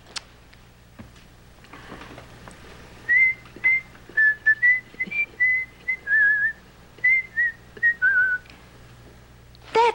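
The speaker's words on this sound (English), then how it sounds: "It was somebody whistling it." A person whistles a tune alone: a string of clear, short, melodic notes in a steady phrase over a quiet room with faint ticking.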